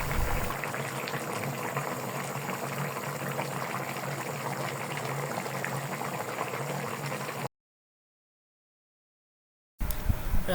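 A bottle gourd and stinging catfish curry bubbles in a pot as the gravy reduces. The simmer is close and continuous, cuts out to silence for about two seconds, then resumes.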